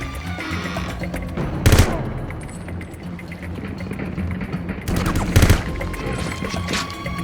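Gunfire in James Bond 007: Everything or Nothing: rapid automatic bursts crackle over a dense battle din, with two loud, close volleys standing out among the steady stream of shots.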